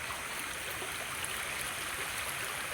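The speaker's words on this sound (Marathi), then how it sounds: "हे काल रात्रीपासून चालू असलेल्या पावसाचं पाणी आहे पर्याचं" A stream swollen with overnight rainwater in the Konkan rushes steadily. The broad, even roar of flowing water is close and continuous, with no other sounds.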